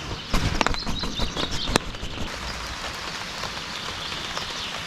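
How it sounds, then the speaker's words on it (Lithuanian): Light rain patters steadily outdoors, with a burst of sharper drop taps at the start before settling into a soft, even hiss. "Lietutis lyja."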